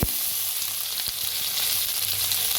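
Cumin, asafoetida, crushed garlic and green chili sizzle steadily in hot oil in a pan, a loud, continuous close crackle and hiss with a few small pops.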